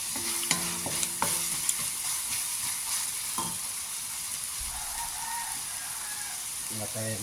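Vegetables stir-fried in a pan for crab relleno, carrot and potato among them, with steady soft sizzling and occasional utensil clinks and scrapes, a few brief louder taps standing out.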